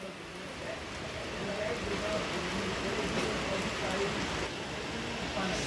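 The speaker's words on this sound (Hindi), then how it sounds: "बारिश हो रही है" Steady rain falls across a monsoon hillside resort in Coorg, a dense continuous hiss that stays even and fairly loud throughout, with a faint voice now and then beneath it.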